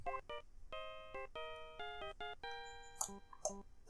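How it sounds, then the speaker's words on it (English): In the Phoenix Wright: Ace Attorney video game, a cell phone ringtone plays the Steel Samurai theme as a bright electronic melody of quick staccato notes, steady and alone, with short sharp clicks near the end. "Oh, it's her cell phone."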